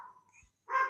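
A pet dog lets out a single short bark nearby in a home, brief and moderately loud after a quiet stretch.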